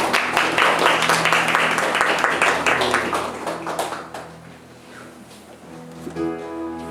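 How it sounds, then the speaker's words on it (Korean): Church youth congregation clapping in encouragement after a Sunday service prayer, loud sustained applause for about four seconds that fades out, followed by a soft keyboard tone. "격려의 박수."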